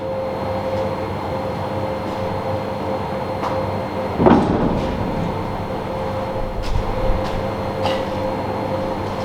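A single dull metallic knock of a steel shield plate on a Nashorn tank destroyer, its right-hand side striking during fitting, over a steady low hum, with a fainter tap a little later.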